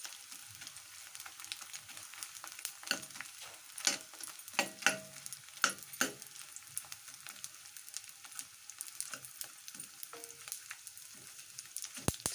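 Edible gum (dink) puffing as it fries in a pan gives a faint, crackling sizzle punctuated by repeated spatula scrapes and taps while being stirred, with no talking.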